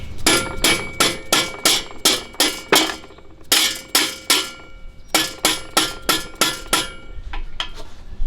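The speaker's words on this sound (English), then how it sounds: "I'm going to take this rubber mallet hammer and just kind of tap it" A rubber mallet taps repeatedly on a part of a Kubota ZG23 mower, sharp close knocks in quick bursts of four to six hits separated by short pauses, loud and without talk.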